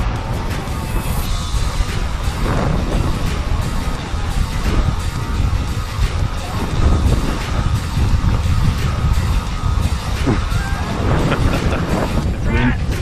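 Strong wind roars and buffets the microphone continuously on a fishing outing in gusty coastal conditions, a loud broadband rush that never lets up, with a voice speaking faintly beneath it.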